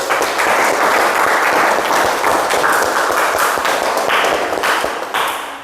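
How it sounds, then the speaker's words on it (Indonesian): A classroom of pupils claps together, loud and close, a dense burst of hand claps that carries on for several seconds before thinning out at the end. "Tepuk tangan untuk kita semua."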